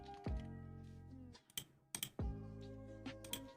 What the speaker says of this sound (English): I'm going to type in portal